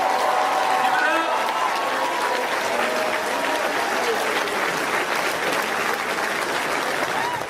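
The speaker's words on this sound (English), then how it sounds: "Let's give these young brothers a round of applause, please." A school audience gives a loud, sustained round of applause for young students, dense steady clapping close by that continues throughout, with cheering voices blended in.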